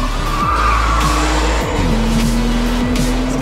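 Porsche 911 Turbo with modified turbochargers driven hard on a circuit, its engine roaring loud and close as tires squeal and skid, revs rising and falling in quick shifts.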